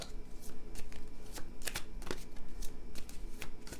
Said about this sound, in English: And the way I'm shuffling is however the cards are telling me to shuffle.